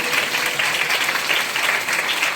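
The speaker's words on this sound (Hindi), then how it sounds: "आप अपने आप के लिए ताली बजाओ जोर से" Audience at a women's gathering claps loudly and steadily, a dense, continuous wash of applause filling the whole short stretch with no voices on top.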